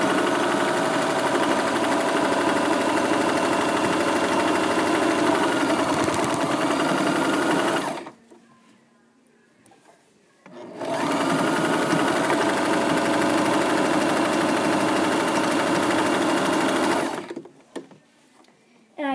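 A sewing machine stitches a scarf with a basic thread in two long, steady, close runs, with a short quiet pause between them and another stop at the end.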